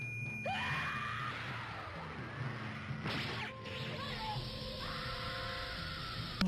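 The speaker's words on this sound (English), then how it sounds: "And he's screaming, and he's having a freaking meltdown" Shinji, the anime pilot, screams in a berserk meltdown after his power supply is cut, a loud strained cry rising over a dense soundtrack of whooshes, impacts and music.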